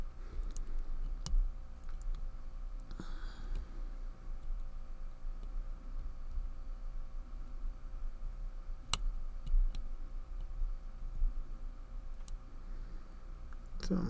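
Picking the levers of a Walsall 2000 five-lever padlock: faint, sparse metallic ticks and clicks scattered over a quiet background, close and irregular, with no talking.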